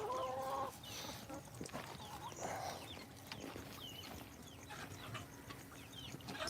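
Backyard chickens cluck and murmur close by in short scattered calls over a quiet morning background, with faint rustling and small knocks between them.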